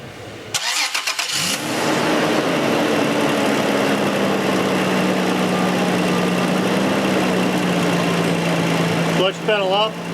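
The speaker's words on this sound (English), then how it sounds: "Let's listen to the bearing for a second. Tim, go ahead and start the engine," A 2006 Toyota Tacoma X-Runner with a 4.0L engine and a newly installed clutch bearing cranks briefly, catches and settles into a loud, steady idle with a constant low hum, while someone talks near the start.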